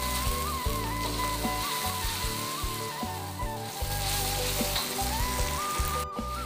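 Chili paste sautéing in a hot pan for a breakfast dish, giving a steady, loud, close sizzle that runs throughout, with no talking over it.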